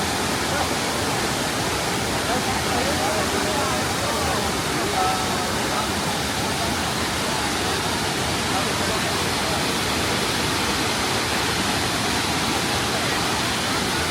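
Waterfalls at Mostar in Herzegovina pour with a loud, constant roar of rushing water that stays unbroken and close throughout, with no clear talking over it.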